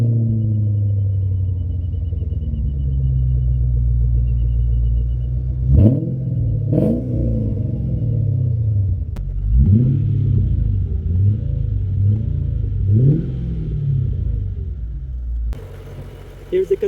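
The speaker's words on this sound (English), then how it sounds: "Let's start the engine and enjoy the sound." A flood-damaged Mercedes CLK500 V8 engine idles with a deep steady rumble, then revs sharply several times, each blip rising and falling back to idle.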